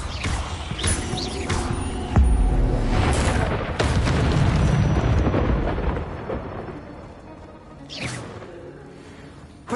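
Incendio fire spell cast in the Hogwarts Legacy video game: a loud whooshing burst of flame with booming impacts and rumble, sustained for several seconds, followed by another swelling whoosh near the end.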